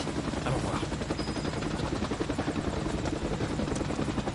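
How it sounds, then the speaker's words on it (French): A Shinra helicopter from Final Fantasy VII Rebirth whirs with a steady rotor chop across the whole moment, loud and continuous, with rapid thudding that resembles gunfire. "Un hélico, la Shinra."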